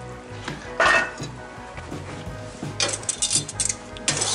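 A cast-iron Dutch oven is lifted off hot coals and set aside while cooking roasted quail with potatoes outdoors, producing a few close metallic clanks and scrapes separated by quieter pauses.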